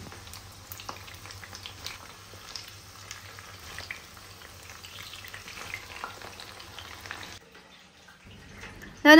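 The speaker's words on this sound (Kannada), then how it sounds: "ನೆಕ್ಸ್ಟ್ ಈಗ ನಾನು ಮಶ್ರೂಮ್ ಫ್ರೈ ಮಾಡ್ಕೊಳ್ತೀನಿ." Mushrooms fry in oil in a pan, a soft, steady sizzling hiss that runs close and even before dropping away near the end, with a brief louder sound at the very close.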